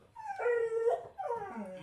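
A dog gives two drawn-out whimpering whines, the first longer and rising then falling, the second shorter and dropping in pitch, close and alone with no talk.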